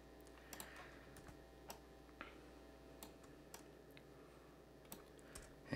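Quiet, sparse clicks of typing on a computer keyboard, isolated keystrokes spaced irregularly over a faint steady background hum.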